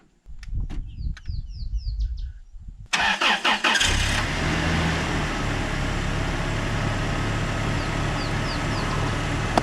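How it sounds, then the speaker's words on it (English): A car in Chobe, Africa, starts from a jumper battery: after a few quiet moments with birds chirping, the starter cranks in rapid bursts, then the engine catches and settles into a loud, steady idle, birds still faintly audible. "We're good for now, so I'm just going to let the car run."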